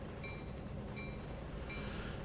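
A train in Train Sim World 2020 on the Canadian National Oakville Subdivision rolls along with a low, steady rumble and faint rhythmic clatter, with a few short high squeals.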